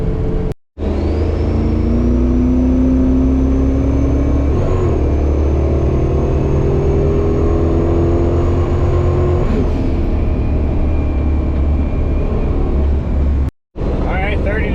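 A twin-turbo Dodge Dakota R/T engine runs loud and close during a boost test, its tone climbing in a rising whine as revs build, holding, then dropping off, with a high turbo whistle above.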